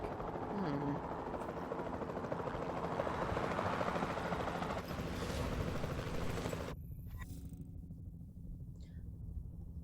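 A capture team helicopter in a video game flies with a loud, steady rotor rumble and whir that cuts off abruptly near the end, leaving a quieter hum.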